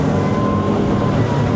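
An XO DSCVR 9 T-Top boat with a 400 hp V10 engine running on bumpy water, a steady, loud, low engine drone with rushing hull and water noise, the revs holding fairly even over the short stretch.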